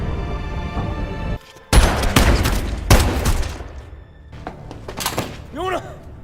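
Gunfire in a film scene rings out as a burst of sharp, loud shots up close, then a second volley and scattered bangs, mixed with shouting voices and a ringing tone near the end.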